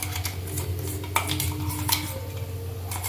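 Spice masala is stir-fried in a pan for a Marathi drumstick vegetable dish, a spoon scraping and clinking against the metal in quick repeated strokes over a low steady background hum, with no talking.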